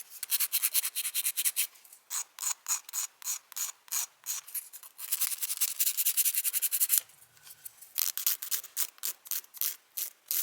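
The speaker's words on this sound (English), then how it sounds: "taking your nail file and just giving it a nice shaping" Nail file rasping back and forth while shaping gel extension nails, a steady run of quick, close, crisp strokes in bursts with short pauses, no talking.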